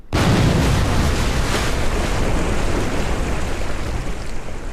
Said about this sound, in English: slow the time walk down so we can hit it at real speed and see the massive explosion